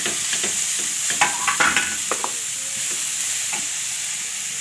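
Chopped onion, cabbage and carrot for veg momos are tossed into a hot pan and stir-fried, with a steady sizzle under a few scraping spatula stirs and clatters, no voices.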